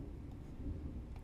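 Thunder rolls outside as a low, steady, muffled rumble, distant and fairly faint, with a soft rain-like hiss and no speech.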